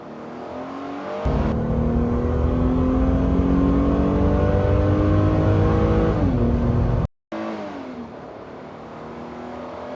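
A 1997 Mitsubishi Pajero Evolution's engine roars close up, revving hard and shifting pitch as it climbs and drops through corners, with a brief cut to near silence before it resumes.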